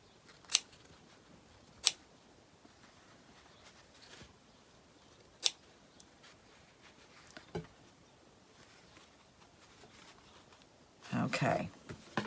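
Scissors cut cloth for a primitive fabric sunflower decoration, giving a few sparse, crisp snips several seconds apart. Quiet handling and rustling fill the gaps, and a longer scraping burst comes near the end.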